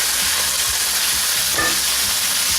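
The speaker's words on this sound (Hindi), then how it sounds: "अब इसको सब चीज़ों को आपस में मिक्स करके इसको इसके साथ मिक्स करूंगी और भूनूंगी" Keema with ginger garlic paste sizzles loudly in a pan as it is fried and stirred for stuffed bitter melon (bharwa karela), with a steady hiss and soft scraping strokes of the spoon and no talking.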